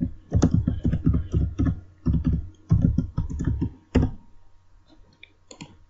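Rapid bursts of keystrokes on a computer keyboard while someone writes Python code, close and clear, in short clusters separated by brief pauses, with no talking.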